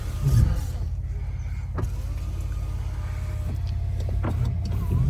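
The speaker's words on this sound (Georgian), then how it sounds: "აწიე შუშა" An electric car window motor hums steadily as the glass rises, over a low idling engine rumble, with a few faint clicks.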